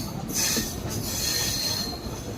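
A train rolling slowly past a railway platform near the station's points and crossings, its wheels squealing loudly and steadily over a low rumbling clatter, close by with no voices.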